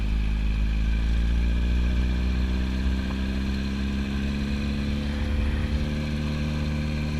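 Yamaha YZF-R1 sport motorcycle engine running close by, a steady low rumble with slight throttle swells and no talk over it.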